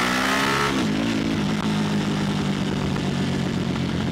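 A 2022 Harley Davidson Pan America motorcycle engine revs up sharply, then settles into a steady throaty rumble near the listener.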